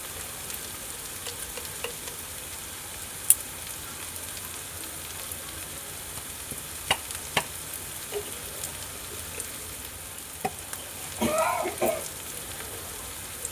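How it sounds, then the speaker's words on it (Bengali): Ground cumin and red chili powder fry in an oil-filled pan with a soft, steady sizzle, punctuated by a few light clinks and scraping stirs, with a louder crackling burst near the end. "সমস্ত মশলা ভালো করে কষিয়ে নেব।"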